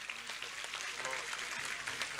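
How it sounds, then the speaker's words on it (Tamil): Audience applause at a school quiz award ceremony on stage, a steady mass of clapping from the hall, moderately loud and sustained throughout, with a faint voice mixed in. "ஒரு மிகப்பெரிய கைத்தட்டல்களை கொடுத்துருங்க"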